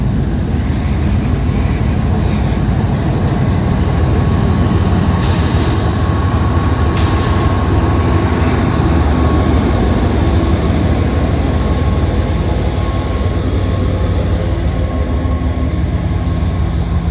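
A Norfolk Southern freight train with a DPU locomotive rolls past close by, a loud, steady rumble of wheels and rail noise that lasts throughout with no talking.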